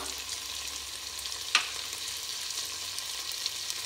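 Rajma pulao with boiled kidney beans and turmeric being stirred in a pan, a steady soft sizzle with one sharp spoon clink against the pan partway through, no talking.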